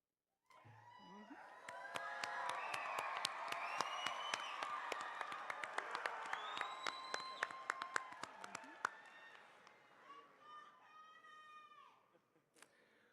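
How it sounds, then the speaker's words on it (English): A graduation ceremony audience in a large hall bursts into sustained applause, with dense clapping mixed with whoops and high cheers. The applause fades gradually, leaving scattered claps and shouts. "we encourage you to express your pride for these graduates by applauding and cheering"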